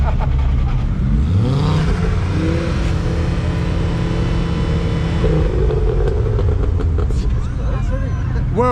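A Ford Focus ST race car at Silverstone, its engine rumbling loud and close and revving up and down in rising and falling sweeps, with voices in the background.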